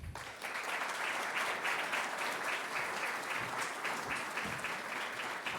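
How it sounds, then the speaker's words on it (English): Audience applause at an opera lecture event, a dense, steady wash of clapping from a sizable crowd, fairly distant and even throughout. "round of applause for him"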